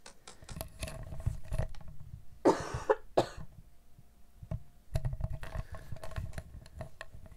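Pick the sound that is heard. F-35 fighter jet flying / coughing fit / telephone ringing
coughing fit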